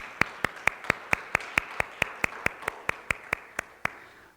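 Church congregation clapping together to welcome newcomers at a Sunday service, a slow, even series of about seventeen single sharp claps spaced roughly a quarter second apart, thinning out at the end.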